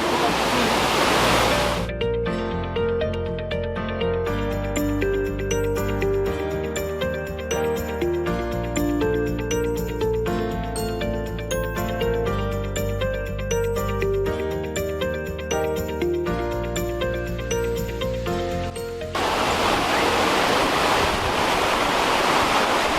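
Rushing mountain waterfalls near Lake Garda, Italy, give a loud broadband roar at the start and end, while music with steady tones and a beat fills the long middle stretch.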